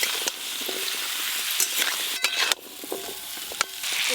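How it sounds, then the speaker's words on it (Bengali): Potato, pumpkin and Malabar spinach stalks fry in hot oil in a wok, a loud close sizzle broken by sharp spatula scrapes and tosses, with no talking. "এবার আলু, কুমড়ো আর পুঁই শাকের ডাঁটা একসঙ্গে দিয়ে দেবো কড়াতে।"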